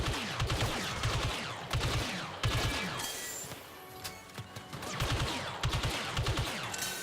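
Rapid bursts of blaster gunfire from the Star Wars Battlefront 2 video game, loud repeated volleys in clusters with brief lulls between, plus crashing impacts.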